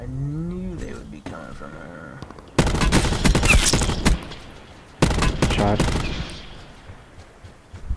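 Loud, close automatic gunfire in Call of Duty Blackout, two long sustained bursts with a short pause between them, with a player's voice heard before the shooting.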